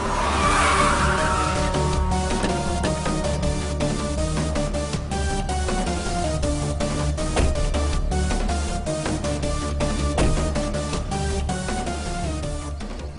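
A car pulls out with tires skidding and squealing, a steady loud engine and tire roar lasting throughout under continuous background music.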